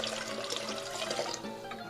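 About two cups of water pour steadily into a mixing bowl for New York style pizza dough, a continuous close splashing rush with no talk.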